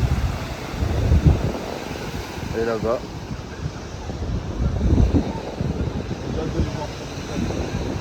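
Ocean waves surge and break at Biarritz beach, with gusting wind buffeting the microphone as people talk nearby.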